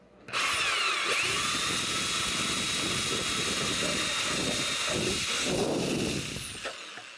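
A power drill fitted with a hole saw spins in reverse, cutting a clean hole in a steady, loud high whine that holds for several seconds before winding down.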